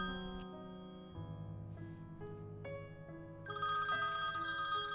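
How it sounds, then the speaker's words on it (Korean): A telephone rings in a women's dormitory at Peking University in 1998, a faint, steady electronic ring of stepping melodic tones that continues for several seconds and grows slightly louder near the end. "북경대학교 여자기숙사에 한 통의 전화가 걸려왔습니다"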